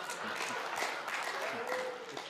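Audience clapping at a Hindi comic poetry gathering, a steady crackle of many hands running throughout, with a voice speaking over the applause.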